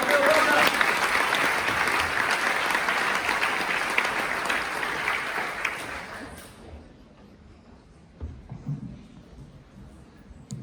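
Sustained audience applause at a science student welcome event, dense and loud for about six seconds before fading out, leaving quiet room sound with a few small knocks.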